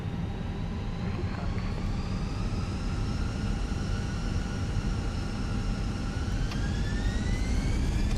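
Airbus A320 jet engines in a Finnair flight simulator spool up for takeoff, a loud steady roar with a thin whine that climbs gradually in pitch and stays prominent throughout.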